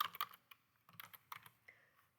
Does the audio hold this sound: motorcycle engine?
no